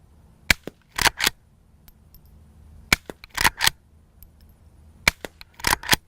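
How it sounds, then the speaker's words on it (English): Suppressed Henry Frontier threaded rimfire lever-action rifle fired at a range, with bullets striking a dirt berm: three pairs of sharp reports, each quiet muzzle crack followed closely by louder impact slaps, spaced a couple of seconds apart. "the sound of it hitting the berm is louder than the gunshot."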